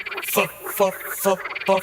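A frog croaks in a quick, regular pulsing rhythm, four or so loud bursts in under two seconds against a bright background chirp.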